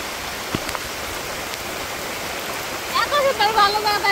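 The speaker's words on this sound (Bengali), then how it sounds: "যে বৃষ্টি নামছে" Steady rain pours in a Bangladeshi village, a dense continuous wash of water, while birds start chirping and calling over it near the end.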